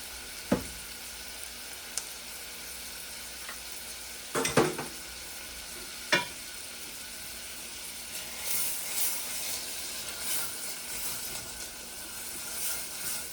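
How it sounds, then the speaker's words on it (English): Onion mix with vinegar, ketchup and rosemary caramelizing in a pan, giving a soft steady sizzle with a few sharp clinks and scrapes early on, and no voices. "Now we'll let this mix caramelize for a few minutes here."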